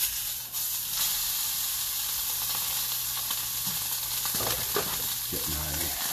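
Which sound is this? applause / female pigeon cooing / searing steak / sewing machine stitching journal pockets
searing steak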